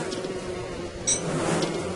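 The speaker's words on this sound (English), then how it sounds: "a bunch of bees fly out of it" Buzzing bees swarm from a bee box in the video game Don't Starve, a steady insect drone up close with a brief sharper burst partway through.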